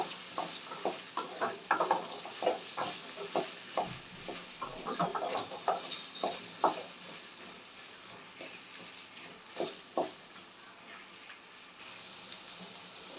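Okra (ladyfinger) sautés in oil with a faint sizzle beneath repeated scraping and clinking strokes of a spoon stirring the pan at an irregular rhythm, quieter toward the end.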